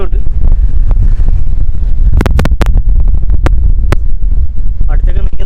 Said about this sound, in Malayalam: ഫുള്ള് കോടയാണ് കേട്ടോ. നല്ല കാറ്റുണ്ട്.